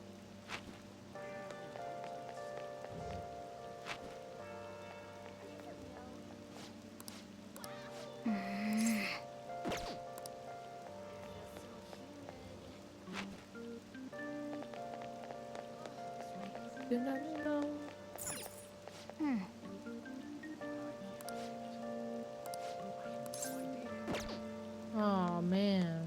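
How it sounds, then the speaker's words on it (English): Steady rain falling in Persona 5 Royal, a soft continuous patter mixed beneath game music and a voice talking throughout. "Rain is so annoying."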